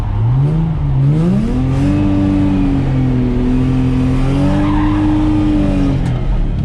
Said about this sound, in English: use the throttle to keep the car rotating around that cone